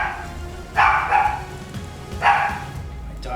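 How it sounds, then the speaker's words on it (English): A dog barks in another room, two muffled bursts spaced apart, heard faintly over a soft background hiss with no talk. "My dog barking in the other room."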